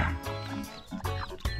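Chickens clucking close by in short, choppy bursts, several quick clucks separated by brief pauses, moderately loud against a quiet background.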